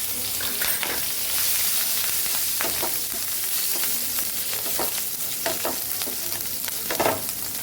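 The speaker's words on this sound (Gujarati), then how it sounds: "લીલા મરચાં પણ સાતળી લેશું" Green chillies sauté and sizzle in a pan of hot oil while samosa filling is made, with steady frying crackle and repeated stirring scrapes throughout, close and alone.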